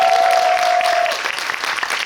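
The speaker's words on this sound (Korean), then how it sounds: "박수 한번 부탁드립니다." A cinema audience at a guest visit screening claps in a dense burst, loud at first and thinning slightly toward the end, with a brief steady tone sounding over the start.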